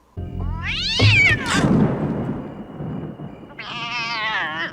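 A cat lets out a loud, drawn-out meow, followed by a shuffling thump, then another rising meow near the end.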